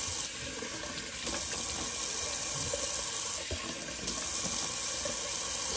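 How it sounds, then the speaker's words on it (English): Cold water running from a tap into a bathroom sink, a steady close hiss and splash that holds throughout, dipping briefly in level around three and a half seconds, with no talking. "Put on some cold water. Rinse out the sink"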